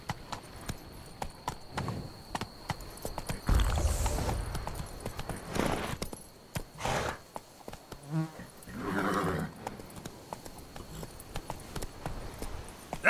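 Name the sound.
horse Roach galloping in video game The Witcher 3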